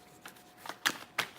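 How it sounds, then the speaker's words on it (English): Tarot cards are shuffled by hand in a few quick riffs, soft and close, with three or four short rustling bursts and quiet gaps between them. "I'll shuffle 3 more times"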